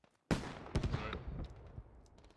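Gunfire in the military shooter game Squad: a sharp loud shot cracks out after near silence, followed by a quick cluster of further bangs and a fading rumble, close and dominant with no voices.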